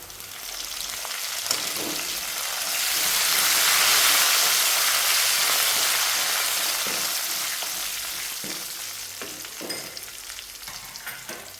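Curry leaves dropped into hot oil with soya chunks frying, a loud close sizzle that swells to a hissing peak and then eases back, with occasional stirring scrapes underneath.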